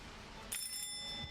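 A bright electronic doorbell chime in the video game Chaos on Deponia rings out suddenly, sustained tones ringing over a quiet low hum for about a second.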